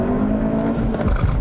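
A 2022 Hyundai Elantra N-Line accelerates hard on a 0-60 run, its engine droning loudly up through the revs with a shifting, rising tone heard from close by.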